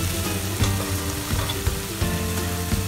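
Spices frying with turmeric powder in a pan, a dense loud sizzle with quick stirring scrapes throughout, close up and without speech.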